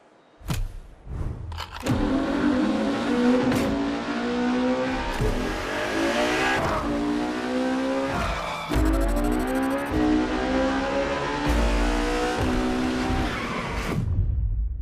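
Ferrari Enzo supercar in the racing game The Crew Motorfest, engine roaring loud and steady with rising revs and gear shifts, brief tire squeal and skid bursts, no talking.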